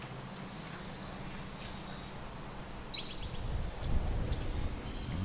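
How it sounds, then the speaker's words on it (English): Several wild birds sing in short, high chirping phrases in a backyard in the morning against a steady outdoor hum, with a louder low rumble building toward the end. "You can hear all of the birds and wildlife."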